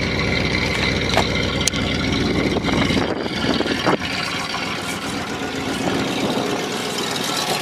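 An Oldsmobile car engine running steadily after being fed bad gas, a loud, even idle with a low rumble and mechanical rattle, close and continuous throughout.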